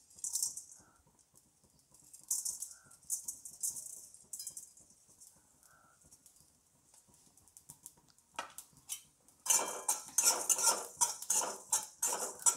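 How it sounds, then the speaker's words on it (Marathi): Black pepper and caraway seeds are dry-roasted in a pan with a spoon, giving intermittent metallic scrapes and clinks close up, growing into busier, louder rattling near the end. "आता ही मिरी आणि शहाजिरे हे पण भाजून घ्यायचं आहे."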